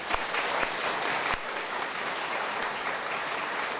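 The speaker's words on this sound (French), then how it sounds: "Je vous demande de les applaudir chaudement" An audience applauds, a dense, even wash of clapping from many hands that carries steadily from start to finish with a few sharper claps standing out near the beginning.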